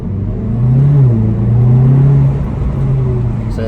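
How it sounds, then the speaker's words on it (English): Exhaust of a Seat Cupra 290 with its GPF deleted revs in first gear, a loud, deep, throaty drone whose pitch rises and falls across several seconds. "That restriction kind of changes the throatiness of the exhaust"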